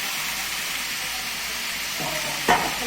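Cabbage kachori filling stirred in a pan over medium heat, a steady soft sizzle and scraping running throughout, with a brief louder clatter of the spoon near the end.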